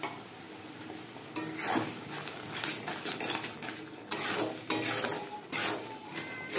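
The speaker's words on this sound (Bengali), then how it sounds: "এবার এটাকে আমি সমানে নাড়তে থাকবো।" Spoon scraping and stirring a thick mango jelly mixture in a cooking pot, with irregular clinks and soft scrapes in bursts over a low background hiss, close by.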